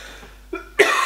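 A person coughs twice at close range, a short hoarse burst followed by a louder, harsher one, with near silence before them.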